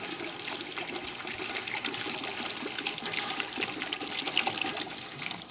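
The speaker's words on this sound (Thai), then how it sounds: "แล้วก็เติมน้ำไปเลยค่ะ เติมน้ำไปเลยจ้า" Water pours steadily into a pot of caramelized sugar while braised duck is being made, a continuous broad splashing trickle held at a constant level throughout, with no talking.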